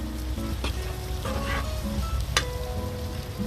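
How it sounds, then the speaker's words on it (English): Butter is stirred into a chateaubriand sauce in a hot pan, giving a steady soft sizzle and bubbling with light scraping of a utensil. It is close and continuous, with no talk. "So we're gonna mix it out so the butter emulsifies into the sauce"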